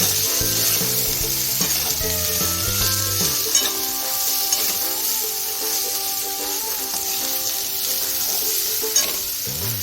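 Spices for brinjal rice sizzle and fry in a pan while being stirred, a continuous crackling hiss with light scraping, under steady background music.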